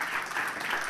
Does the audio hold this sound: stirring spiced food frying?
no